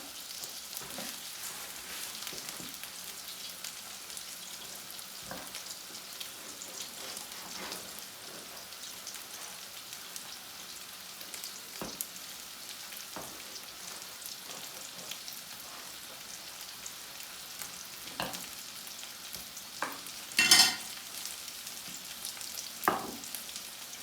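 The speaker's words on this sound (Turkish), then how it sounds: "Bu şekilde güzelce anne köftemizi güzel bir şekilde kızartıyoruz." Meatballs sizzle steadily in a hot pan, a soft crackling bed with occasional sharper pops and a brief louder clatter near the end.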